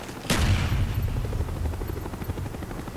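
Friendly helicopter in the game Call of Duty Black Ops, a sustained rotor thump with low rumbling beneath, preceded by a sharp burst like gunfire; loud and continuous throughout.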